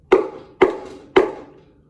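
Three loud, sharp knocks on a door, evenly spaced about half a second apart, each with a short ringing decay, heard alone with no talking.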